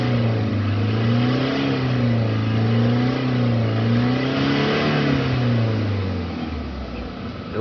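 A Toyota Fortuner, Hilux or Innova Reborn diesel engine revs loudly and steadily during purging, its pitch rising and falling in waves before easing off near the end.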